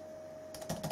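Keys of an iBook G3 laptop keyboard tapped in a short burst of typing a password, a few quick clicks close by after a brief quiet pause, with a steady faint electrical hum underneath.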